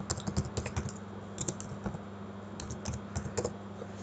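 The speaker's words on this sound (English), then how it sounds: "So we always type in sudo," A command is typed on a computer keyboard in quick, uneven clusters of key clicks close by, over a low steady hum, with no voice.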